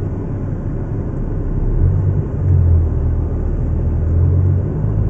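An Audi R8 being driven on a racing track gives a steady, loud low engine drone heard from inside the cabin, swelling slightly in the middle and holding throughout.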